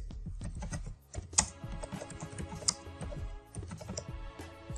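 Typing on a computer keyboard while entering text in Photoshop: quick, irregular clicks and key taps, close and fairly quiet, with a couple of sharper louder keystrokes.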